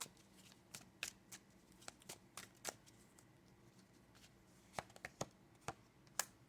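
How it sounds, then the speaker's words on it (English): Tarot cards are laid out one after another, giving sparse, soft papery snaps and slides at irregular intervals, quiet and close against a faint room hiss. "We're going to lay out some more cards from this one."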